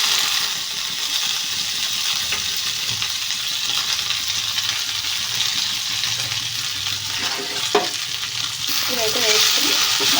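Tamarind leaves frying in a pan for a tamarind-leaf coconut chutney, a steady close sizzle with occasional stirring scrapes, no talk.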